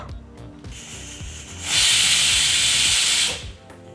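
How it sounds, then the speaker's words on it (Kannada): A pressure cooker cooking broccoli gravy lets out a single loud, hissing whistle lasting about two seconds, close by, over faint kitchen clatter. "ಈಗ ಇಲ್ಲಿ ಕುಕ್ಕರ್ ಒಂದು ವಿಸಲ್ ಬಂದಾಯಿತು"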